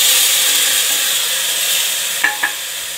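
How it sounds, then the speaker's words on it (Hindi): Finely chopped tomatoes stirred into frying soya chunks for soya biryani, a loud steady sizzle filling the clip, with two brief spoon or spatula knocks near the end. "2 बारीक कटे हुए टमाटर इसे भी हम अच्छे से मिला लेंगे।"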